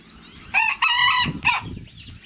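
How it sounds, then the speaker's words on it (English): A rooster crows near the microphone, a loud, strained call broken into several harmonic bursts, with soft background rustle and faint noise around it. "That's a rooster."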